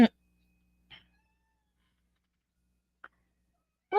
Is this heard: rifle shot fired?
no